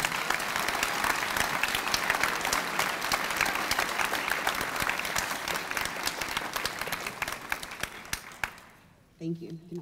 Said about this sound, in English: Please give our middle college students a round of applause.